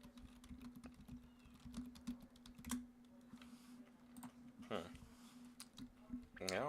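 Steady clicking of a computer keyboard as someone types into an MMO game, brisk irregular keystrokes close by over a low constant hum, with a voice talking over parts of it.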